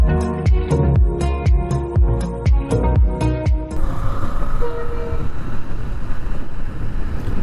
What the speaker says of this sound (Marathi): ही ट्रेन जाते ट्रेन वरून जाते आणि आपण खालून चाललोय